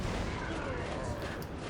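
Thunderfire cannon artillery of the Salamanders army in a Dawn of War Unification battle, dense rumbling barrage of shell fire and blasts rolling continuously through a busy, noisy wargame soundscape.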